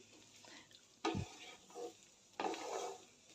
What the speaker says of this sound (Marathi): पोहे चांगलं मिक्स करून झालेलं आहे